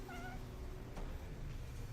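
A cat in the game Deponia gives a few short meows with a wailing, caterwaul edge, heard alone over a dense, steady background bed.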